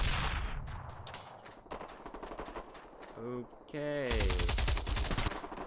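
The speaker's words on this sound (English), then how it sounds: "he's using an AK-47, which is like OP in this game" AK-47 fire in the online shooter Bullet Run comes in sharp, rapid automatic bursts, close and loud, broken by a short pause, with a player briefly speaking.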